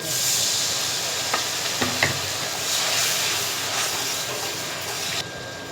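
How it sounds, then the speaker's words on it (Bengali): Dried chela fish seasoned with salt and turmeric sizzles in hot mustard oil with a steady, even hiss, broken by a few soft stirring clicks near the end. "শুটকির মধ্যে আমি হালকা একটু লবণ, একটু হলুদ কাটিয়ে দিচ্ছি আর সরিষার তেল দিয়ে আমি একটু ভাজা"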